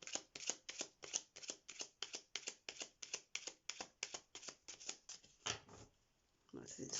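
Oracle deck cards shuffled in a fast, even rhythm of about two dozen crisp slaps, close and clear, ending with a brief pause and a louder handling rustle.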